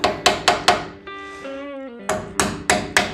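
A hammer taps a stuck strut part off a Chevy Tracker during a spacer lift and strut flip: sharp metallic blows in two quick bursts of four, ringing between them, with a sustained metallic ring in the pause.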